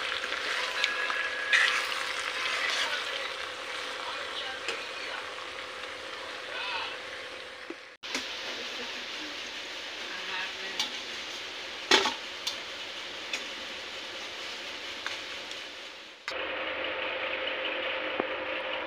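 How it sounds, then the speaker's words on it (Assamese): Meat fries in a pan in a home kitchen, a steady soft sizzle and crackle that runs throughout with a few clinks, and voices talk quietly underneath. "মাংস ভাজি আছে"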